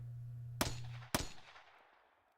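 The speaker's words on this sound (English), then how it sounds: "And then more gunshots." Two sharp gunshots in the game Steins;Gate 0, about half a second apart, loud and close, each trailing into a fading echo; a low hum sits under the first.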